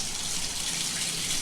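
A shower runs steadily, a continuous hiss of falling water, even in level and uninterrupted with no voices.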